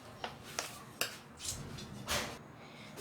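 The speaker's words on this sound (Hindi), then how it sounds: "आपने चम्मच की मदद से इसको फैला लेना है, बिल्कुल इक्वल कर लेना है" A spoon spreading semolina halwa evenly in a dish: a few light clinks of metal on the dish followed by soft scraping strokes, close and fairly quiet, no talking.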